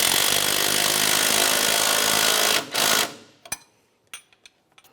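Power tool tightening a sway bar link nut on a 2001-2005 Ford Explorer Sport Trac, a loud continuous rattling whir for about three seconds that cuts off, followed by a few sharp metallic clicks and taps.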